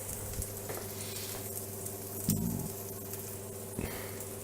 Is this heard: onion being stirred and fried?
yes